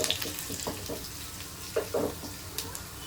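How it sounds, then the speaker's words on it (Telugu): Cumin, garlic and dried red chillies fry in hot oil for a leafy-greens dal, giving a steady close sizzle with a few sharper crackles and spits. "అలాగే ఒక మూడు ఎండుమిర్చి వేసుకుంటున్నాను కొంచెం వేగనిద్దాము"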